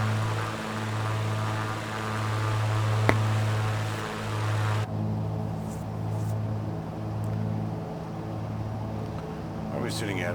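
Propeller aircraft engine in Microsoft Flight Simulator 2020, a steady droning hum with a throbbing pulse and a brief click near the start, heard on a military flight in Australia with live weather.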